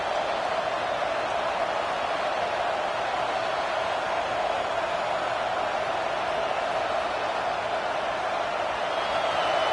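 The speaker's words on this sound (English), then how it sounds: "The roar of the crowd trying to fuel this defense to keep them pinned in their own end." A football stadium crowd roars through a game, a dense, steady wall of cheering that holds at an even level for the whole span without pause.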